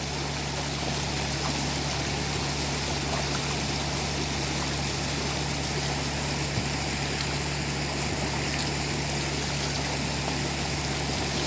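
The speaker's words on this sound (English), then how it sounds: "Listen to the water." A creek flows steadily in a gorge, a constant broadband rush and trickle of water with an even level throughout and no voices.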